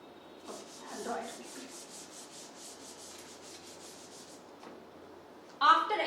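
A board is rubbed clean on one side in a classroom, a rapid, regular swishing of about fifteen soft strokes, fairly quiet, with a few faint voice sounds early on and a louder scrape at the end.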